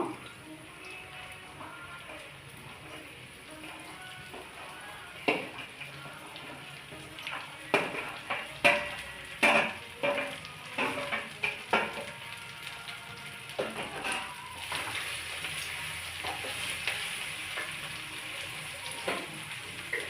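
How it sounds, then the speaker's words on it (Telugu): Sliced okra tossed into hot oil in a pan for a yogurt-based fry, giving a soft crackling sizzle broken by a run of clacking stirs and scrapes against the pan. "దీంట్లో ఇప్పుడు బెండకాయ వేస్తున్నాను"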